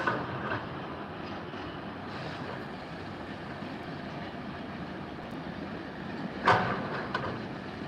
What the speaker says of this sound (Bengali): কমলাপুর থেকে চড়ে আসা ট্রেন এয়ারপোর্ট হয়ে যাচ্ছে